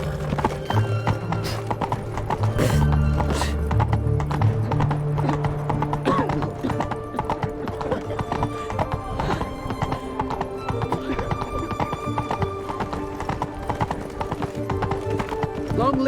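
Horse hooves clip-clop steadily through a Witcher 3 game scene, loud and continuous for the whole stretch, with occasional neighs and snorts and game voices talking over the hoofbeats.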